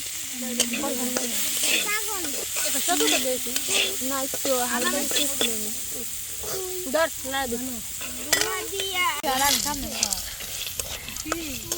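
Ghechu, a traditional Bengali village dish made from a wetland tuber, stirred while it cooks in a pan: steady scraping and sizzling under lively, overlapping voices talking close by.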